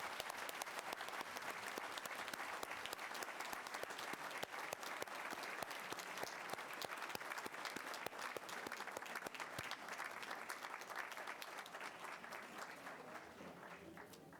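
A school audience applauds students at a recognition meeting with dense, sustained clapping that stays steady and loud for the whole stretch, easing slightly at the very end.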